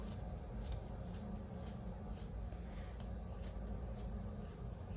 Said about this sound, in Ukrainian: Так, де мої ножиці? Ці взагалі нічого вже не ріжуть.